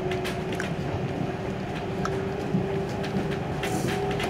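A train rumbles steadily on its rails, a continuous low droning hum with faint rhythmic clatter throughout, close by and moderately loud, heard from inside a four-car local train on the Tokaido Line between Maibara and Ogaki, Japan.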